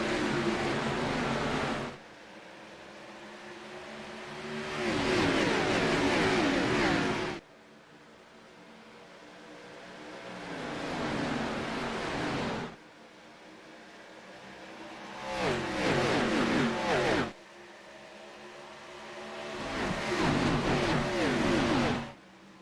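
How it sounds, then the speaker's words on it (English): A pack of about 30 ARCA stock cars races into turn 1 at Kentucky Speedway, engines swelling in repeated loud roaring waves as groups pass, with brief quieter gaps between them. "Green flag is out as 30 cars are about to rumble into turn 1 here at Kentucky Speedway."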